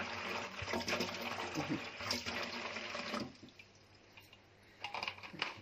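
Water pours steadily into a container for about three seconds while pickling turnips, cauliflower and carrots, then stops, followed by quieter handling and a brief splash near the end.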